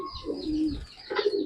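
A pigeon of an old fancy breed gives a soft throaty coo at close range, a brief rolling call with a short second phrase and nothing else heard.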